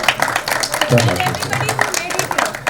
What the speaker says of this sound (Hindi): उस मेहनत के लिए एक बार तालियां प्लीज